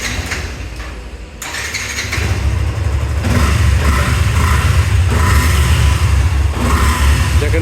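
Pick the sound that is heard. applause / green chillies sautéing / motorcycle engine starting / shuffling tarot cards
motorcycle engine starting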